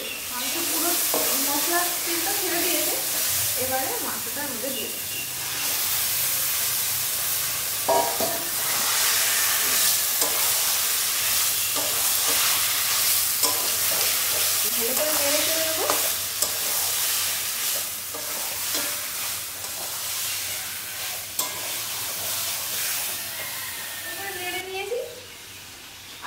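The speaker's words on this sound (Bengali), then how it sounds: "মাংস পুরো মশলার তেলটা ছেড়ে দিয়েছে, এবারে মাংসটার মধ্যে দিয়ে দেবে।" Meat hits hot spiced oil masala and fries with a continuous loud sizzle and hiss, broken by scraping stirs and occasional clatters, while a voice talks over parts of it.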